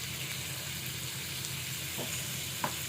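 Rohu fish tawa fry, finished with fresh lemon juice, sizzles gently in a hot pan, a steady close hiss with a few faint crackles and no talk.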